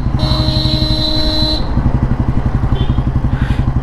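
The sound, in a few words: 1957 Royal Enfield Bullet G2 motorcycle riding in top gear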